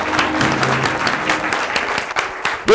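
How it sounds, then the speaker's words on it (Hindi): Audience applause at a numerology professional success program seminar in Bengaluru, a dense, steady patter of many hands clapping in a hall, sustained and fairly loud throughout. "ताली में दम नहीं आपकी यार।"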